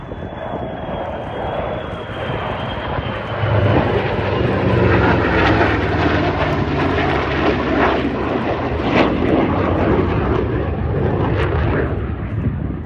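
F-35A fighter jets from an RAF Lakenheath squadron flying past at an airshow, a loud sustained jet roar that swells and stays heavy through the pass with crackling rumble, no talk over it.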